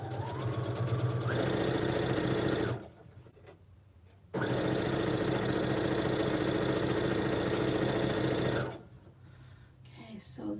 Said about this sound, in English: I think chain piecing is one of the greatest things.